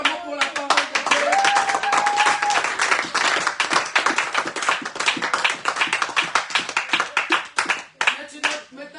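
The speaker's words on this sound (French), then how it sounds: "Acclamons pour la parole de Dieu." A church congregation applauds after a French-language sermon, with dense, sustained clapping from many hands that thins toward the end, and voices calling out over it.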